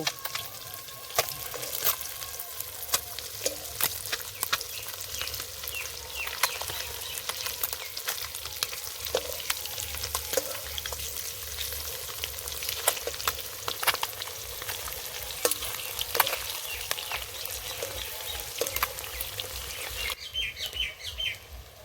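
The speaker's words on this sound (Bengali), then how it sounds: "এবার ডিমগুলো ভেজে নেব কড়াইতে দিয়ে দেব ডিম" Eggs frying in a hot wok, a dense continuous crackling sizzle with sharp spits and pops throughout, close and steady.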